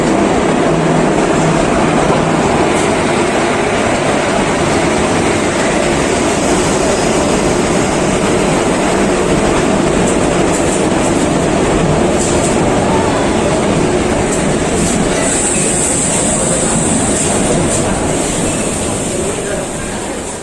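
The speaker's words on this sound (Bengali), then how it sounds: "এই যে ট্রেন ঢুকছে বার্নপুর স্টেশনে, আসানসোল হলদিয়া এক্সপ্রেস 22330 আসানসোল হলদিয়া এক্সপ্রেস ঢুকছে" The Asansol–Haldia Express 22330 pulls into Burnpur station with a loud, continuous rumble and roar that holds steady throughout and fades slightly at the end.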